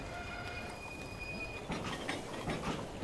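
A train in the video game Railway Empire rumbles along with a faint wheel squeal and a high whistle-like tone, then louder rhythmic clatter; no one speaks.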